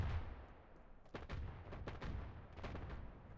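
Grenade and gunfire blasts in the mobile shooter Standoff 2 land in a quick cluster of sharp, booming bursts, a couple close together near the start and more a moment later, fairly loud with nobody speaking.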